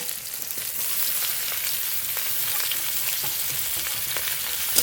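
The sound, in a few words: spinach added onto hot tempering, frying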